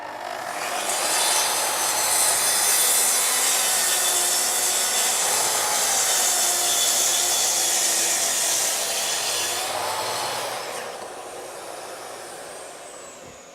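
A Festool TS55 plunge saw trims the end off a door with a Festool CTL SYS dust extractor attached, giving a loud, steady high whine of cutting and suction that holds for about ten seconds before easing off.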